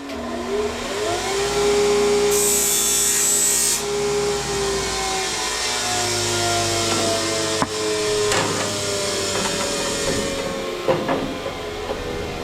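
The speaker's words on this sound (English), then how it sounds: "I just gotta trim a little bit of this edge here because it doesn't quite sit down" A grinder trims the edge of a sheet metal panel during a rust repair with a loud sustained whine that drops in pitch as it bites. It briefly spins down, then rasps and chatters against the metal.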